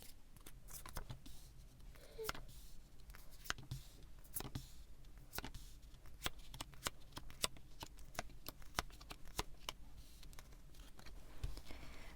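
Tarot cards are handled and laid out one after another, giving a long run of crisp, close slaps and flicks at an uneven rhythm over quiet room tone.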